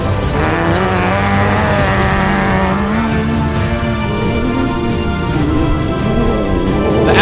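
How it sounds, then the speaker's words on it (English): A Nissan 350Z race car in a D-Class championship race howls at full throttle, its loud, continuous engine note rising and falling through gear changes for several seconds. "The sweet sounding Nissan 350Z motor at full tilt is something to behold."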